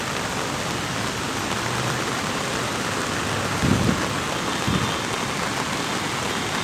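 Steady, dense rain hissing continuously throughout during a Bangkok evening downpour in traffic, with a couple of brief low thuds partway through.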